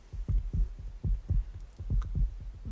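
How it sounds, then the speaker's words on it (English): Heartbeat sound effect from the video game 428: Shibuya Scramble, a fast, slightly uneven series of deep double thumps pulsing steadily and close. "The galloping heartbeat was back."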